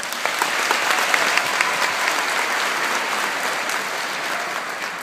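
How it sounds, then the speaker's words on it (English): A large audience at a graduation ceremony in Carnegie Hall applauds, a broad, even roar of clapping that sustains without pause throughout. "Please give them a round of applause."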